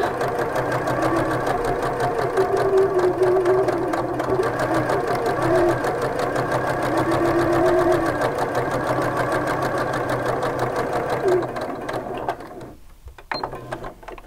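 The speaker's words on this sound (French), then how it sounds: "Une couture parallèle, hop, juste derrière." A sewing machine stitches a parallel seam on a shirt cuff, running steadily and loudly for about twelve seconds with a continuous mechanical whir, then stopping near the end.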